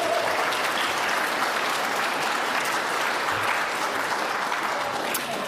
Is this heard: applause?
yes